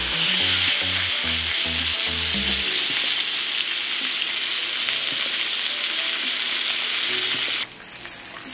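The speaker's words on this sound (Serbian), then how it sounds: "sada ćemo krmenadle pustiti da se prže" Pork chops sizzle loudly in a pan after their undersides have been seared, a close, steady hiss with a few dull rhythmic thumps early on, cutting off abruptly near the end.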